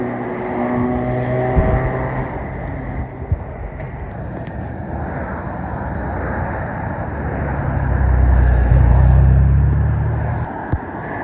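A Ferrari 812 sweeps past on the A7 motorway, its engine tone swelling into a loud, close, low roar midway before fading, over continuous traffic rumble and wind, with no speech.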